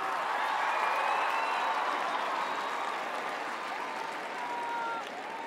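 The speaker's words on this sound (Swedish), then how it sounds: "håll i den applåden" A large arena audience at a charity concert in Stockholm applauds steadily, a dense wash of clapping and some cheering that holds at full volume throughout before easing slightly at the end.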